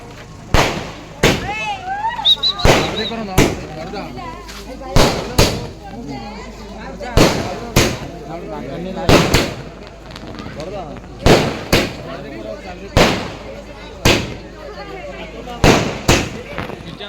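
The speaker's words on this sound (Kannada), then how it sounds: "ಪಟಾಕಿ ಹೊಡಿತಾ ಇದೀವಿ" Sharp firecracker bangs burst repeatedly at irregular intervals, loud and close, with people chatting in the background between the blasts, during a Ganesha festival celebration in KG Lakkenahalli village.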